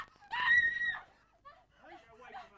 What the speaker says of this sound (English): There's no use screaming, darling.